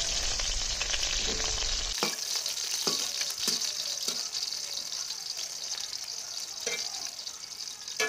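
Capsicum, beans, carrot and cauliflower fry in oil and ghee for fried rice, a steady close hiss with a few sharp spoon scrapes and clinks against the pan, after a brief louder burst at the start.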